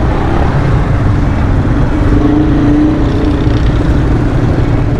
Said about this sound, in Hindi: ये देखो सारी गाड़ियाँ लेफ़्ट साइड पे मुड़ रही हैं